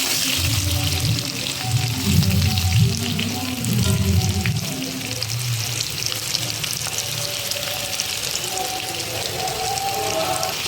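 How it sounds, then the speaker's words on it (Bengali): Potato pieces sizzle steadily in hot oil while being stirred with salt for chicken biryani, a continuous close hiss with a low hum and faint voice-like tones early on. "লবণ দিয়ে একটু আলুগুলো নেড়ে চেড়ে নেবো"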